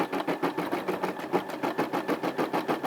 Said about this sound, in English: I'm just gonna let it stitch out the whiskers.